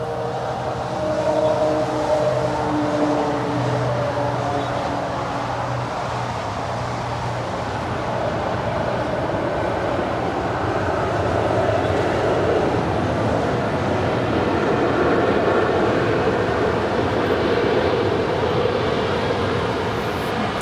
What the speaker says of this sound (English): That's United Express Flight 4790 coming in from Jackson. It's an Embraer